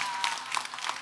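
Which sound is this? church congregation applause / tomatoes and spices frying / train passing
church congregation applause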